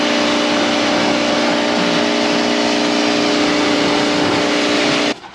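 A Nissan Cefiro doing skids makes a loud, unbroken roar of revving engine and tyre noise that holds steady for about five seconds, then cuts off abruptly.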